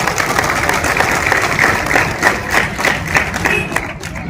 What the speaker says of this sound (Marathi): ज्यांच्या तालावरती आम्ही पोलीस चालतो जे आमचं बँड पथक आहे खरं तर त्यांच्यासाठी सर्वांनी एकदा टाळ्या वाजाव्यात